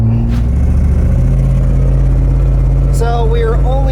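Jeep with a newly installed suspension system driving on pavement, its engine and tire drone loud and steady throughout, with a person talking briefly near the end.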